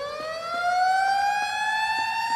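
A town siren sounding the five o'clock signal in an anime drama, a long steady wailing tone with rich harmonics that slowly rises in pitch, loud and unbroken with no voices over it.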